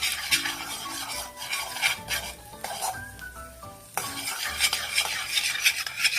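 Ingredients for sweet jaggery sesame balls roast in a pan, with steady sizzling, scraping and clinking as a spoon stirs against the metal, close and busy with no talking.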